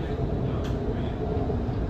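A Doha Metro train runs on rails, heard from inside the air-conditioned carriage as a steady, moderate rumble and hum with no clear changes over two seconds.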